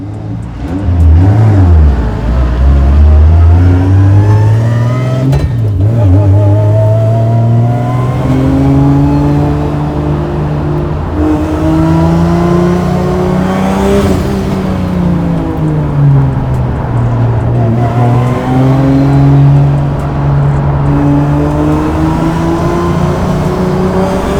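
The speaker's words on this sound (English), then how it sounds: "I love the sound of the transmission" Chevy Monte Carlo drift car with a 700 hp 2JZ engine revving up and down repeatedly with a whining transmission, pitch rising and falling in long sweeps, loud and close from inside the vehicle.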